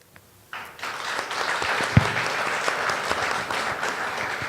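Applause bursts out from a candidate forum audience for the San Mateo County sheriff race after a near-silent moment, then continues as a dense, sustained wash of many hands clapping with a few sharper individual claps.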